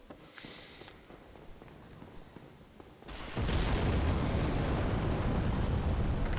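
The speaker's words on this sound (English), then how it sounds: "Damn, those explosions are loud." Dark Souls gameplay: quiet footsteps and ambience, then a sudden loud explosion that erupts into a sustained, roaring blast filling the second half, with no talking.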